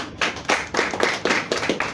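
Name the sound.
audience applause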